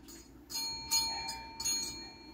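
A small bell rings as an Aspin dog touches it, three or four bright metallic dings in quick succession, each ringing on briefly, fairly faint and close.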